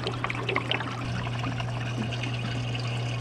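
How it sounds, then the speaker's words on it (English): Water pumped through a cheap, simple hydroponics setup flows out of a pipe fitting in a steady, close trickling pour that runs evenly, with a low electrical hum from the pump beneath it. "That's an excellent flow."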